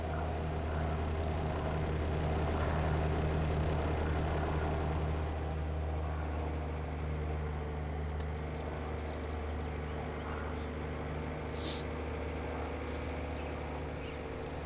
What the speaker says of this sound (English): God, that plane's loud.